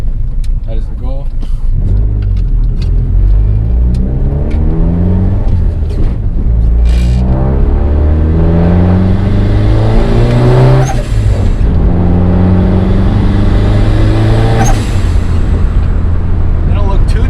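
A turbocharged Honda Accord accelerates hard under boost, its loud engine rising in pitch through several gears with shifts between pulls, heard close from inside the car while someone talks over it.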